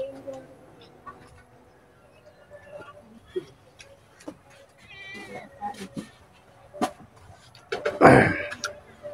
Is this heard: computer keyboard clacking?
no